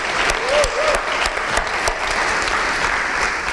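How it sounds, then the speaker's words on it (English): Audience applause at a volunteer awards ceremony, dense steady clapping from a room full of people, with a few louder sharp claps near the microphone and a brief whistle. "round of applause."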